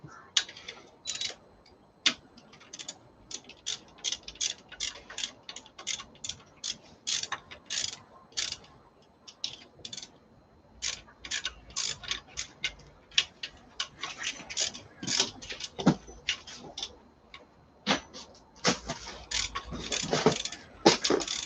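A ratchet wrench works loose the power steering line bolt on a car, giving rapid bursts of close metallic clicks with short pauses in between, growing busier toward the end.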